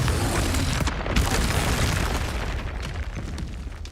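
The Confringo blasting spell explodes in Hogwarts Legacy with a heavy, rumbling boom that stays loud and close, then rolls and slowly fades over several seconds, with no speech.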